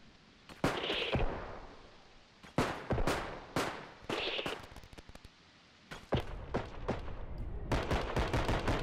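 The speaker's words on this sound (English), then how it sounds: "Now, I don't see where the shots are coming from." Gunfire in the video game Bodycam, bursts of sharp close shots and rapid volleys repeating through the clip over a steady background rumble.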